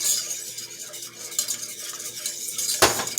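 A spoon stirs a flour roux, one heaping tablespoon of flour in oil, around a pan on a lopsided stove, giving steady soft scraping with a faint sizzle and one sharp clatter near the end.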